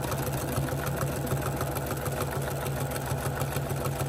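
A sewing machine with a walking foot stitches steadily while quilting a quilt top, giving a close, continuous, evenly pulsing mechanical hum with no pauses.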